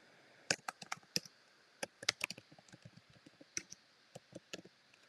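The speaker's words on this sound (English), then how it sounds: "let me just type this in" Keys clack on a computer keyboard in quick uneven bursts and single taps, close and fairly quiet, with short pauses between runs.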